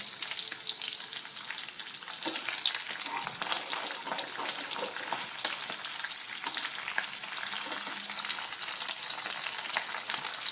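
Anchovies deep frying in hot oil with curry leaves give a close, steady, dense sizzle and fine crackle that holds evenly throughout, with faint stirring scrapes and no talking.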